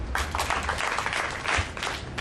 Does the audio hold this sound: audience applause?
yes